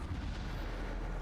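Spell blasts from the Bombarda explosion in Hogwarts Legacy land as dull, booming bursts, dense and low, packed into a short stretch of continuous combat noise without any voices.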